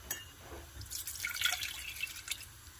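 Water poured into a bowl for sesame ball dough, a soft splashing trickle lasting a couple of seconds, close and fairly quiet, with no talking.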